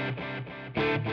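Electric guitar played through a Nova delay pedal in a compact hybrid pedalboard setup, two short strummed chords ringing out close and clear.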